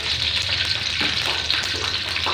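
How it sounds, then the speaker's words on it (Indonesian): Onions frying in hot oil in a home kitchen, a steady close sizzle and crackle with occasional stirring scrapes, continuous and fairly loud with no talking. "Saya mau goreng dulu bawang."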